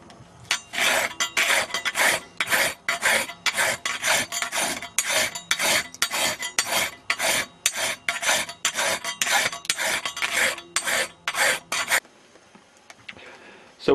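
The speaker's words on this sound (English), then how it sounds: "then I'll just spend some time filing it away." Hand file rasping metal welds on airsoft BAR 1918A2 parts, a long run of regular, close, scraping strokes repeating steadily for about twelve seconds before stopping into quiet.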